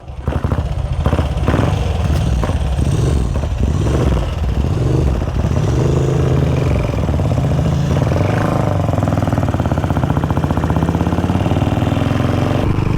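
A Velocette Venom single-cylinder motorcycle engine pulls steadily while being ridden, a loud, close, continuous thumping drone that rises and falls slightly with throttle, with no talk over it.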